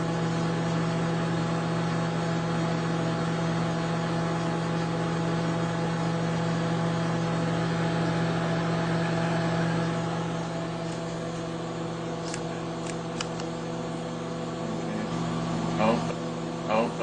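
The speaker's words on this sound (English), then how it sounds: "This is what's happening to gummy bears in the microwave." A microwave oven runs with a steady low hum and tonal drone while heating gummy bears; the hum continues throughout, with a few faint crackles and pops near the end and people talking in the background.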